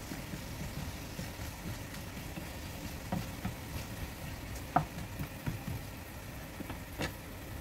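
Banana blossom fries crisping in hot oil, a faint steady sizzle with occasional small pops and crackles.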